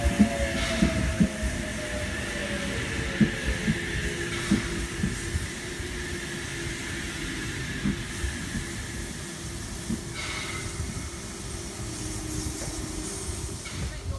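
A Sydney Trains Oscar H55 train arriving at a platform on the Gosford line at Hawkesbury River rumbles and hums nearby with a steady low roar and faint rail squeal, the sound holding at an even level throughout.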